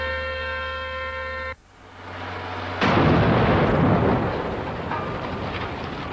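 Rock blasting for a tunnel during dam construction: a tonal hum cuts off, then a deep rumble builds and a sharp, heavy blast booms before fading into a long reverberant roar.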